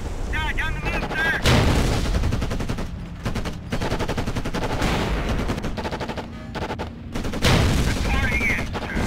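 Battle gunfire in the video game Codename Panzers Cold War as units come under attack: rapid bursts of machine-gun rattle and heavy booming shots, loud and close, with a voice speaking between the volleys.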